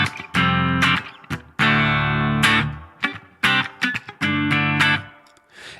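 Electric guitar on a BOSS GT1000 with spring reverb placed after the amp model, adding slight distortion: loud chords and short strummed phrases with abrupt stops, each leaving a brief reverb tail.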